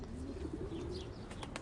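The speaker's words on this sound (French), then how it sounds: "Les 2 femmes nourrissent les pigeons, mais la seconde les chasse en même temps." Pigeons being fed by people, giving soft, low cooing close by, with a few brief chirps or wing sounds toward the end.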